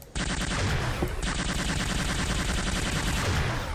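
A base defense turret in Unreal II XMP fires a loud, rapid, continuous burst with a dense mechanical rattle. The burst breaks off for a split second and then resumes, with no voices.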